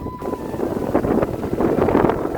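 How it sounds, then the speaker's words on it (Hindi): Strong wind roaring steadily across the microphone on a trek at Pipaldoh fort in Melghat, a constant loud rush with gusty buffeting throughout. "हवा बहुत ही जोर से चल रही है, ज़बरदस्त हवा चल रही है।"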